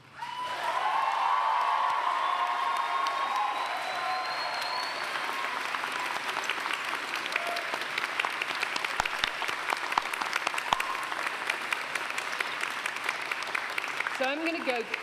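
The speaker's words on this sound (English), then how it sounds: "And with a very warm round of applause and cheering that is going to take the roof down" A graduation audience breaks into loud, sustained applause and cheering, with whoops and shouts riding over the dense clapping for the whole stretch, filling a large hall.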